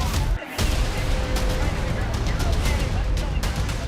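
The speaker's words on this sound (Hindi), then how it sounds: "हमलावर ने कई गोलियां चलाई" Several gunshots ring out at an outdoor Trump rally, sharp cracks repeating irregularly over a noisy crowd background, some close and loud, others fainter.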